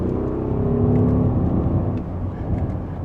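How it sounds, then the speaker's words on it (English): Audi SQ7 luxury three-row SUV exhaust during a downshift in dynamic mode, a low, rumbling engine drone swelling briefly then settling, heard steadily from inside the cabin. "And let's downshift again. You can hear a little bit of that exhaust."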